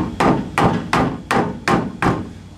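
Six sharp hammer blows ring out at an even pace, loud and close, each with a bright metallic crack, as the bent engine neck on a pink 427 is pounded back into place.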